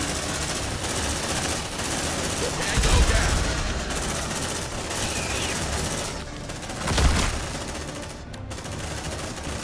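Sustained bursts of automatic gunfire in the video game Aliens: Dark Descent, dense and continuous with heavier swells, mixed with game voices and combat noise.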